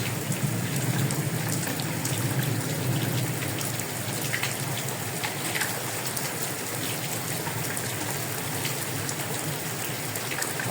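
Heavy rain pours steadily during a thunderstorm in Faisalabad, a dense, loud, unbroken hiss of drops hitting surfaces close by, with no voices.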